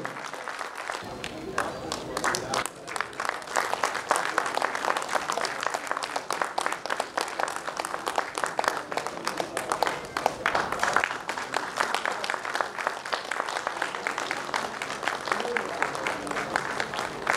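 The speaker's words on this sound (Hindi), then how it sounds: "हाथ ताली रुकना नहीं चाहिए।" Sustained audience applause fills a large hall at a Sahu Sabha gathering at Rabindra Tirtha in West Bengal, dense steady hand clapping that continues unbroken for well over fifteen seconds.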